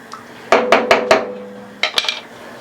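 A metal lid is set on a cooking pot of birria, giving several bright, close clanks in a quick cluster, then a pause and a few more rattling clinks as it settles.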